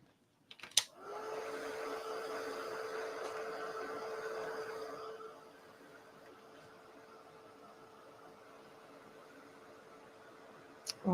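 A handheld dryer blows steadily on sprayed Distress ink for about five seconds, a close whooshing hiss, then drops to a quieter hum, with a couple of small clicks at the start and end.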